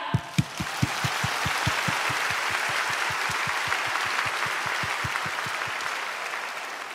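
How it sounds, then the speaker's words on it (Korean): A church congregation at a Bible recitation contest bursts into sustained applause, dense continuous clapping that opens with a few sharp, strong claps and then holds steady before tapering slightly at the close. "이 시간 최고의 감사와 영광의 박수 올려드리고 시작하길 원합니다"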